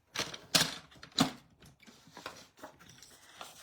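A paper trimmer slices through a sheet of peacock-coloured card: two sharp, close cutting strokes near the start, followed by quieter scraping and handling sounds with no speech.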